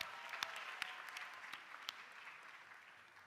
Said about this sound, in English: And give yourselves a round of applause.